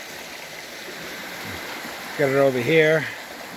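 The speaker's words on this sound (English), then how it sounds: "It's going out that way in a nice steady stream." Water drains out from under rocks in a small New Hampshire river at a gold panning spot, a faint steady trickle running beneath a man's brief spoken words.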